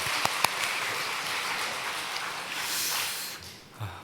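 A church congregation applauds during a Sunday worship service, a steady, fairly soft wash of clapping that holds for several seconds and then fades near the end.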